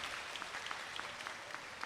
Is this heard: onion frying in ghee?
no